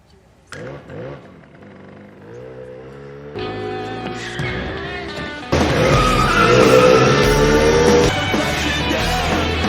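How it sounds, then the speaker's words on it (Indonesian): A motorcycle engine revs up and grows louder, with rising pitch, tire squeal and a loud roar near the end, mixed with music. "membincangkan Wayne, tiba-tiba terdengar suara motor."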